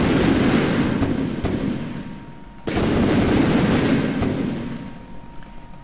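A 36mm gun in the video game From the Depths fires at 2,200 rounds per minute. The sustained, loud roar of rapid automatic fire dips briefly near the middle, then surges again and tapers toward the end.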